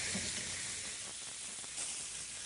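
Food searing in a hot pan in a restaurant kitchen, a steady, dense sizzle and hiss that fills the whole stretch at moderate loudness, with no voices.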